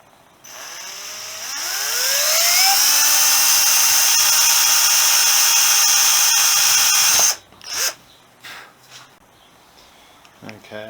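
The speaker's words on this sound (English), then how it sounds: "I'm going to start with a pilot hole." Power drill boring a pilot hole through thin sheet-metal guard on a Honda CB125S under restoration: motor spins up over two seconds to a steady high whine, holds for about five seconds, then stops abruptly, followed by light handling clatter.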